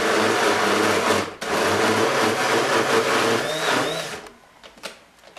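Kitchen blender pulsing roasted garlic cream cheese dip, a loud whirring motor burst that briefly dips, resumes and then stops, followed by a few faint knocks.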